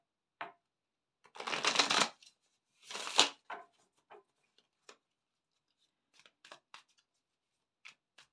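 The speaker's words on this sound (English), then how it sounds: "Just give them a good shuffle." Tarot cards being shuffled up close: two quick riffle bursts, then scattered light taps and flicks as the deck is squared in a quiet room.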